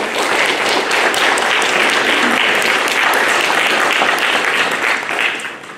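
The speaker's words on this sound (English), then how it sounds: "Ladies and gentlemen, can I get a round of applause for our mayoral candidate?" Loud, sustained applause from a crowd at a candidate forum greeting a mayoral candidate, many hands clapping in a dense even roar that holds steady for several seconds before tapering slightly at the end.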